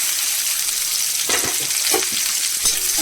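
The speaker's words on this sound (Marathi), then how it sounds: "चांगला लाल भाजून घ्यायचा लाल कांदा भाजला आहे" A steady, loud sizzle of onion frying in hot oil on a tawa, with a few soft clinks and stirring scrapes.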